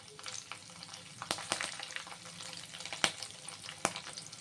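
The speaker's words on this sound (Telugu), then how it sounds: "ఇప్పుడైతే పచ్చిమిరపకాయలు వేసుకుంటున్నాను నేను." Green chillies fry in a pan for upma, a faint, steady sizzle broken by several sharp spatula clicks and scrapes as they are stirred, with no talking.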